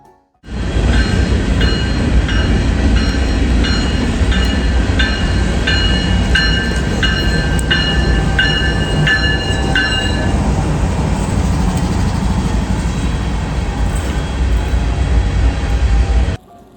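A long freight grain train rolls past close by on the Roseville Subdivision, a loud steady rumble of wheels with rhythmic clicking and occasional metallic squeal.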